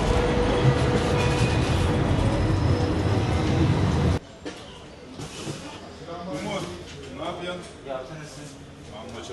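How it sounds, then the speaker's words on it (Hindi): A tram in Istanbul rumbles and rattles loudly close by as it arrives for a few seconds, then the sound cuts abruptly to a quieter scene with people talking. "ट्राम आ गई है, अब इसको चढ़ते हैं"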